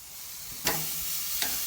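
Seasoned barbecue food hisses softly on a Weber grill, a steady quiet sizzle broken by two brief bursts of louder crackling as pieces are added or turned.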